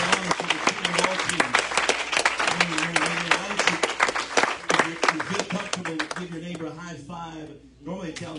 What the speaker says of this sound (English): Now would you clap your hands one more time?